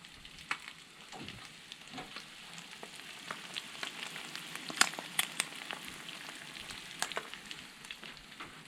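Bacon frying at a campsite on a canoe trip in Everglades National Park: a steady, faint crackling sizzle with scattered sharp pops and spits throughout.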